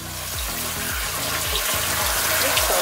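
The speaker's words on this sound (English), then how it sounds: "Give it a quick rinse." Mint leaves rinsed under a running kitchen tap, a steady close stream of water with rhythmic splashing and dribbling as the leaves are moved through it.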